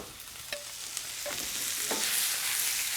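Pre-cooked Brussels sprouts tossed into a hot pan with fresh herbs land with a few soft clinks, then a loud, close sizzle swells and holds; no voices.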